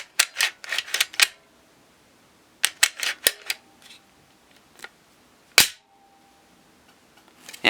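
A Glock pistol's slide is racked back and forward over an empty magazine, giving clusters of crisp, hollow metallic clicks up close with quiet gaps and one louder snap.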